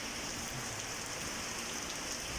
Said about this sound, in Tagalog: Sobrang lakas pa rin ng ulan